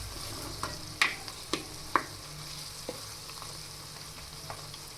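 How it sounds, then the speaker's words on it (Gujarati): Large onion pieces frying in oil until golden brown for matar paneer hiss softly and steadily, with several light spatula taps against the pan. "જ્યાં સુધી આપણી ડુંગળી ગોલ્ડન બ્રાઉન થાય ત્યાં સુધી આપણે તેને તેલમાં ચડવા દેશું."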